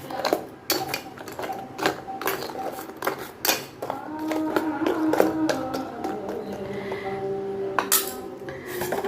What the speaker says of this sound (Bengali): দিয়ে একটু ভালো করে মিশিয়ে নেবো ভাজা বড়িগুলো